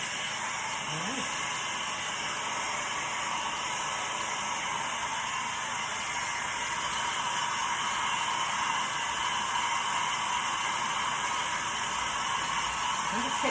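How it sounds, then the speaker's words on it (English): A heat gun or hair dryer blows on acrylic pour paint, a steady, continuous airy roar that holds at an even level for the whole stretch, close and unbroken. "I'm just hitting it with a little heat now because I'm seeing some sides start to come up"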